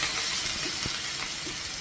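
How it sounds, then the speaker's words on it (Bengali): Chopped onions drop into a pan of frying vegetables, including kundru, and a steady, bright hiss of sizzling fills the short stretch with faint clicks of stirring and no talk. "কুচিয়ে রাখা পেঁয়াজগুলো ওর মধ্যে দিয়ে দিই।"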